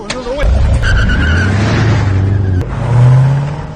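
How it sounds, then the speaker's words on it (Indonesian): A car speeds off from a gated housing complex, engine revving hard with a tire squeal at the start, then a sustained loud roar that climbs again near the end. "Kevin yang melihat kesempatan itu pun segera tancap gas dan pergi meninggalkan komplek tersebut."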